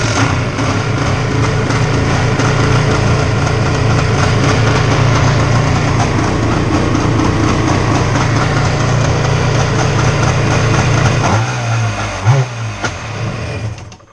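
A Yamaha Waveblaster personal watercraft engine cranks and runs with a loud, steady buzzing drone for about eleven seconds, then sputters, surges briefly and dies away near the end, with no talking.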